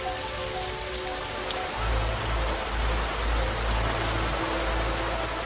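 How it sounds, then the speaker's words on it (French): Steady, dense rain patters on a surface, a continuous hiss with a low rumbling undertone and no voices. "prêtes à tomber sous forme de pluie."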